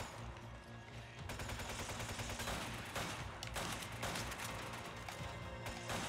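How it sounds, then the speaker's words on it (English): Gunfire in short bursts in the Resident Evil 5 video game, repeated rapid shots and clattering volleys close and loud throughout. "try and fire in short bursts"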